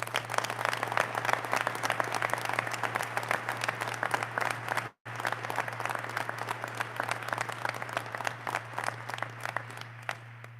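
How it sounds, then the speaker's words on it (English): A crowd at a fire department recruit graduation ceremony applauds in a thick, even roar of clapping over a low steady hum, broken by one brief gap midway before resuming and slowly thinning. "Please join me in a round of applause for the training center."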